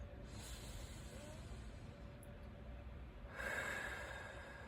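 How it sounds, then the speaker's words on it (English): A deep breath drawn in during a guided meditation check-in on a Zoom call, a soft airy inhale over low background hiss that swells louder toward the end. "let's take a deep breath in"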